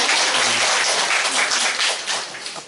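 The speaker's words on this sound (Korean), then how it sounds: "박수를 한번 쳐주세요." Steady, dense applause fills the hall at a university admissions strategy seminar for students who earned perfect entrance exam scores, broad and sustained, easing slightly toward the end.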